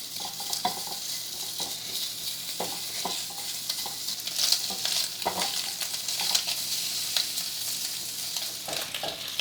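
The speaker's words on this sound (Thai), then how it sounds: "ผมจีเบคอนมาได้เหลืองขนาดนี้ผมพอใจแล้วครับ" Bacon frying in a pan and being stirred, with a steady crackling sizzle and repeated scraping and clinking of the utensil against the pan, close and continuous.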